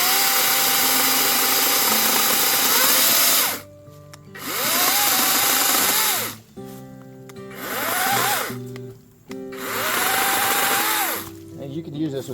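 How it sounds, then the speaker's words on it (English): A Badger 20V battery chainsaw cuts through cherry hardwood outdoors in three or four loud bursts, its motor whine rising under load and easing off, with short quiet gaps between cuts. "Cuts right through that. This is a hardwood, this is cherry."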